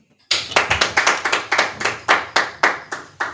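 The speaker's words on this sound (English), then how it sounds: "clap it up" A small group of men claps in slow unison at a gathering, about a dozen sharp, even, rhythmic claps ringing out close and loud with no talk.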